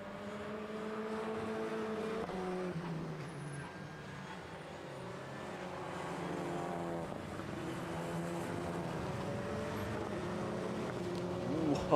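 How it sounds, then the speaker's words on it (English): Clio Cup race cars at the Most circuit braking hard into a right-hand hairpin, engines droning and downshifting in overlapping tones, heard at moderate distance under a commentator's voice. "They were just braking so hard into the right-hander, into the hairpin."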